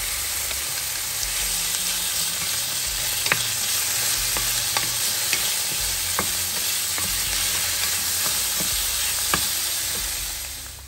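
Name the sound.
pork frying and being stirred in a pan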